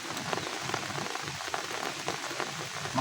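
Continuous rain pours over a hillside farm of rice and vegetable plots, a constant close hiss of raindrops striking surfaces without pause or voices.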